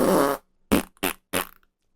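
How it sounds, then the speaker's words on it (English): A wet fart sound effect, a long sputtering blast followed by three shorter squelchy bursts, loud and close with nothing else around it. "then we have the wet fart of the week"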